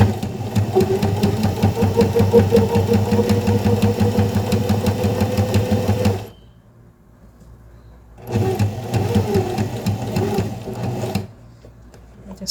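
A sewing machine stitches fabric for a double-sided handbag strap, whirring loudly in a long steady run, then stopping for about two seconds before a shorter burst of stitching.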